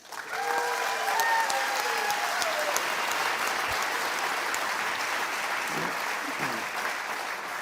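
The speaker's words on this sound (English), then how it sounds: "I firstly want to give a round of applause to Beth England" Fan forum audience applauding footballer Beth England, a steady, dense round of clapping that fills the room from start to finish, with a few whistles and cheers early on.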